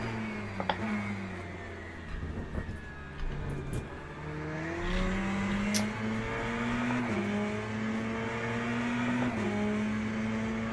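An LMP2 prototype race car engine in the Le Mans Ultimate racing game, its steady droning note climbing through the revs and stepping back at gear changes, loud and continuous with no talking.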